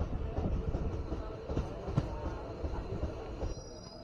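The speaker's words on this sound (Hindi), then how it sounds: "ट्रेन पहुंच रही है धूपगुड़ी, यहाँ पे ट्रेन का 2 ही मिनट का स्टॉप है।" The Uttarbanga Express passenger train rumbles steadily as it arrives at Dhupguri station, a low continuous roll with faint wheel clatter and a few sharper knocks, heard from on board.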